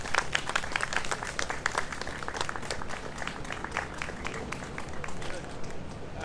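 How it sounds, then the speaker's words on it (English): A group applauding, dense steady clapping sustained throughout at moderate loudness, with some crowd noise mixed in. "about a round of applause, guys?"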